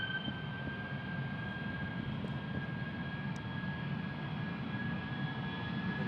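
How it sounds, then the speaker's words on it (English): A British Airways Airbus jet takes off from Amsterdam Schiphol Airport, its engines making a steady broadband roar at moderate distance, with a faint high whine running through it for the whole stretch. "A little Airbus from British Airways."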